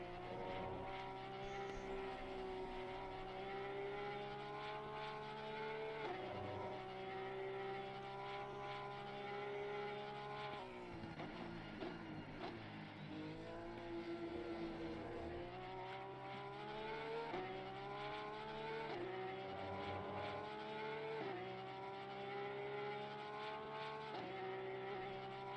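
Porsche race car engine heard onboard at Kyalami, a steady loud drone with rising and falling pitch as it works through gears, dipping briefly around a lift mid-lap before climbing again.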